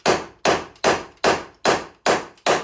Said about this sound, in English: So this next bit of footage is quite loud with hammering